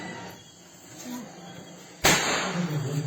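A firecracker thrown by hand bursts with one sharp, loud crack, followed by a noisy crackling tail, after a stretch of quieter background murmur.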